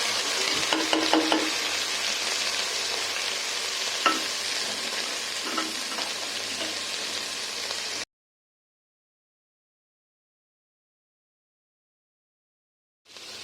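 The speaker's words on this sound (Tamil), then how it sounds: "வெங்காயத்தை போட்டுடலாம். இந்த முருங்கைப்பூவை போட்டுடலாம்." Onions and moringa flowers fry in a pan with a dense, continuous sizzle and occasional stirring scrapes. The sound cuts to complete silence for several seconds, then the sizzle briefly returns at the end.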